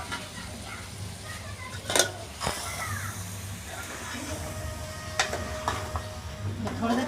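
Meat fries with tomatoes and spices for achar gosht, producing a low, continuous sizzle. An occasional utensil clatter and scrape from stirring cuts through it.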